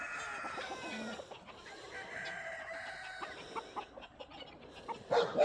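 Several chickens, including young birds and a rooster, cluck and call in a cold outdoor coop, with overlapping mid-distance clucks, a brief crow-like call and rustling at the end.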